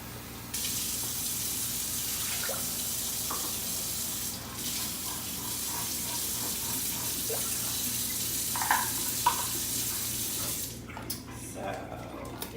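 Running water pours steadily from a kitchen tap, a continuous hiss with faint clinks of a measuring cup being filled, and no talking.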